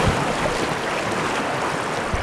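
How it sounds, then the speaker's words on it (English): Fast river water rushing around a canoe on the San Juan River, a steady, loud, broadband wash and gurgle with wind buffeting the microphone, no voices. "And the water's definitely picking up speed."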